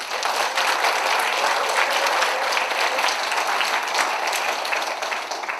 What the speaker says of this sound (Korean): 혹시나 제 발표에 기대가 되신다면 박수 한번 부탁드립니다.